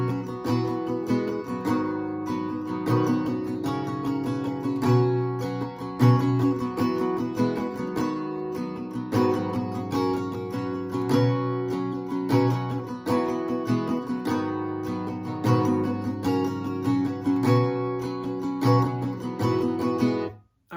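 An acoustic guitar strums the last chorus of a song, live version, alone with no vocals. Rhythmic chords ring steadily at a close, even level for about twenty seconds.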